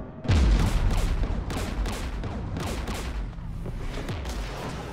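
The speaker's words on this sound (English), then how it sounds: "We're taking fire." Sustained gunfire in Mass Effect Legendary Edition rolls on as a dense, steady barrage of shots and crackling impacts, a low heavy thump at the start, with no voices over it.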